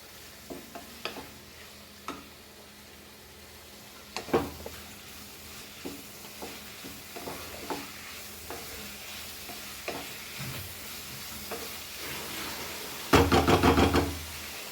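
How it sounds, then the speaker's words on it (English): Whole spices and a bay leaf sizzling softly in a pan for Goan prawn sukha, with sparse knocks and stirring taps over the low frying hiss and a louder clatter near the end. "So now let this fry nicely."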